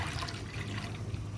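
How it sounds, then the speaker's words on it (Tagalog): Coconut milk pours into a pot of squid adobo with eggplant. A soft, continuous liquid trickle sits close and fairly quiet for about a second and a half. "ibubuhos na natin ang ating gata"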